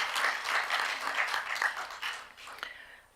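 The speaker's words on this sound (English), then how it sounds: "A round of applause," A conference audience at a public health event applauds, with quiet, fairly distant clapping that keeps a steady patter before tapering off into a few last claps.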